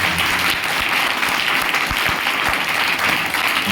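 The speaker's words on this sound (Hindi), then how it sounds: "जोरदार यीशु मसीह के लिए ताली" Church congregation applauding for Jesus Christ during a Hindi worship service, a dense, steady roar of many hands clapping that holds loud and even throughout with no pause.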